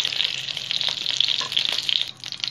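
Pointed gourd (parwal) pieces frying in mustard oil in a pan over a low-to-medium gas flame, a continuous close crackling sizzle with occasional stirring scrapes.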